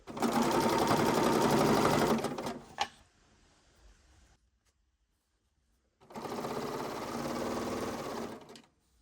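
A serger sewing machine stitches a fabric strip held by a guide, running in two loud steady bursts of fast whirring separated by a short knock and a few seconds of near silence.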